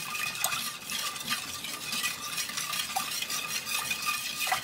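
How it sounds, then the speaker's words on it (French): Steady spoon stirring in a pot of warm milk with melting chocolate, a continuous soft swishing with light periodic scrapes against the sides, close and quiet. "Je remue comme ça jusqu'à ce que tout le chocolat soit fondu"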